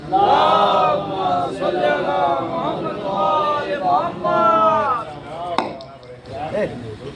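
A devotional gathering at a Shaban mahfil chants salawat together in response, with loud, sustained massed voices rising and falling in unison.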